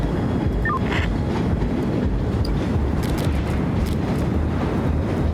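A train rolls along in the game Fright Train with a constant low rumble and rattle. Faint clanks and clicks rise over the noise, and no one speaks.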